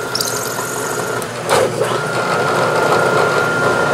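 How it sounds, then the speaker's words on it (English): A hole is power-tapped on a drill press, the spindle feeding the tap into the workpiece with a loud steady machine whine and rumble, plus a brief squeal and a short surge partway through. "I'm just going to start the tapping hole and let it feed in"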